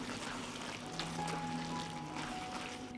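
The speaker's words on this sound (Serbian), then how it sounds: "pržit ću još 10 minuta" Ground meat seasoned with salt frying steadily in a pan, a continuous soft sizzle with faint pouring-like hiss and tonal hum in the background, no talking.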